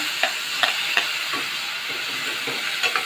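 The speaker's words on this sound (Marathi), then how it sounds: "आता आपण चांगलं परतून घेऊया कांदा आपला चांगला भाजला गेला आहे" Onion and finely chopped tomato sautéing in a pan for a spicy soya chunks masala, giving a steady sizzling hiss broken by several sharp scrapes of stirring, close and fairly loud, with no talk.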